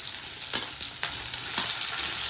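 Tomatoes sizzle as they fry in a pan, a steady close hiss with a few soft stirring knocks and no voices.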